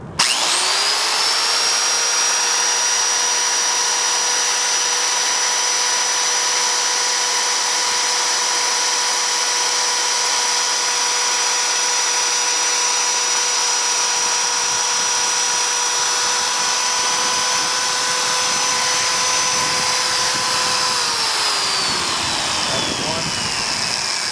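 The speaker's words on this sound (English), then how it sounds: "we're going to drill a series of holes" A power drill whines steadily and loudly at a constant pitch for a long stretch, drilling a series of holes in a Medeco payphone lock, then winds down near the end.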